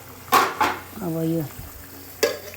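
Local chicken fries in a covered pan, with three sharp metal clanks of the utensil against the pan over a faint sizzle and a brief spoken remark between them.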